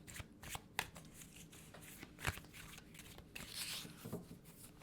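Tarot cards are shuffled in repeated soft riffling bursts, close and fairly quiet, with small taps and flicks in between.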